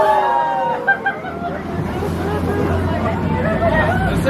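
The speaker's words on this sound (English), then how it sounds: "Other tourists did too, so listen to us cheer." A group of tourists aboard a boat off Maui cheers and chatters at surfers, with steady wind and engine rumble underneath and a couple of louder whoops early on.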